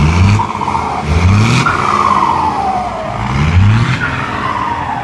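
A Ford F250 pickup's original turbocharger whistles as the engine revs, rising and falling glides over a loud, steady engine roar close by, with repeated spool-up swells across the stretch.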